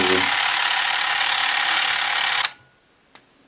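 A Carena C-600 film camera's mechanism whirs steadily after repair of its dead motor, a dense, even mechanical run lasting over two seconds before stopping abruptly, followed by one faint click.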